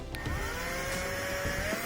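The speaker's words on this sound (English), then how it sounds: "I'm just zipping out those 2 Phillips head screws" A power driver spins out short quarter-inch Phillips head machine screws from a gas clothes dryer, giving a steady close motor whine whose pitch slowly climbs as each screw backs out.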